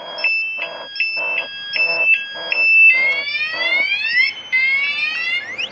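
A TEXNO motorcycle anti-theft alarm on a 2020 Honda CBR500R sounds loudly: a rapid pulsing series of high beeps, then shifting into a continuous warbling, rising-and-falling siren tone.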